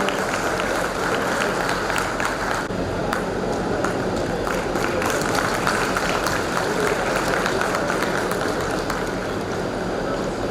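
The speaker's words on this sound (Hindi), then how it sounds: "कृपया तालियां बजाकर इनका उत्साह वर्धन करें।" Sustained applause from an audience at a company foundation day ceremony, a dense steady patter of many hands clapping, moderately loud and continuous for the whole stretch.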